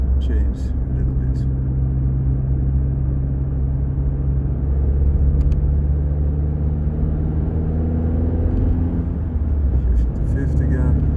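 A Suzuki Swift Sport (ZC33S) with an HKS Hi-Power Spec-L 2 aftermarket exhaust idles with a deep, throaty exhaust rumble that holds steady and close throughout.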